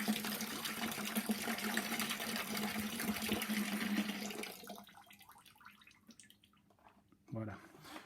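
Coolant drains from the cooling system of a Peugeot Expert into a bucket as a loud, steady splash and trickle that fades out after about four seconds, followed by a few drips and a clunk.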